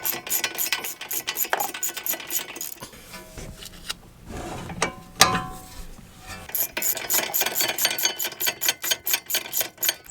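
A ratchet clicks in quick, close bursts while loosening rear caliper bracket bolts on a second-generation Ford Fusion, with a quieter handling pause between the runs of clicks.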